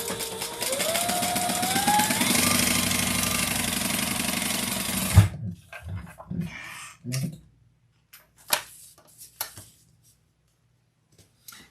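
Sewing machine top stitching across the top of a bag, a loud continuous mechanical whirr for about five seconds, then stopping and followed by scattered handling clicks and knocks.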